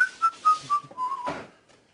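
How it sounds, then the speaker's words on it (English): A person whistles a short tune while mopping, with about five bright rising and falling notes, close and clear, ending with a soft breathy rustle. "Give me a little whistle while we work."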